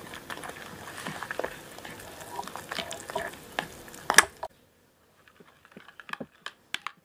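Wheat flour batter with salt, sugar, vanilla and water being stirred in a bowl, giving soft, irregular wet tapping and scraping strokes that stop partway, followed by a few sparse, quieter knocks.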